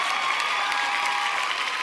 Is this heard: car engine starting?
no